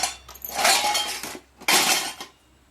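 Kitchen pots, vessels and steel containers clinking and clattering as they are stacked and arranged, two bursts of close metallic rattling separated by a short pause.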